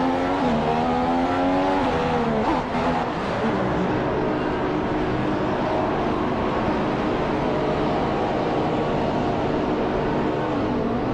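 Race car engine in a racing video game heading into the pits for a stop on worn option tires, a loud continuous whine with pitch sweeping down as it slows, then a steady drone.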